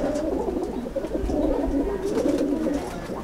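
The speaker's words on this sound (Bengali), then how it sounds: "একটা সাদা পায়রা, মোটামুটি ধাড়ি, তো এটা আসাদ লাইনের পায়রা।" Continuous close cooing from a crowd of pigeons in a Howrah pigeon loft housing white Asad-line birds, overlapping low coos forming a steady warbling murmur.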